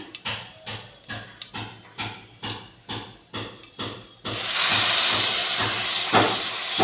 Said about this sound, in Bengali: তেল দিয়ে দিয়েছি এবার একটু কালো জিরে ফোড়ন দিলাম